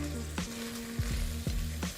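Sliced onions stir-frying in a pan toward a light golden color, a steady close sizzle with a few sharp scrapes and clatters from stirring, no voices.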